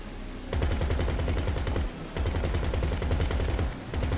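Rapid automatic gunfire rattles in Grand Theft Auto, two long bursts of close, loud shots, each a dense string of sharp cracks, separated by a brief pause.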